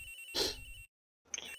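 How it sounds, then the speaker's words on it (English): A telephone rings in the Ace Attorney Investigations game, a brief bright electronic trill cut short, then a gap and another partial ring over faint game background sound. "Agent Hicks' phone! It's ringing from somewhere, sir!"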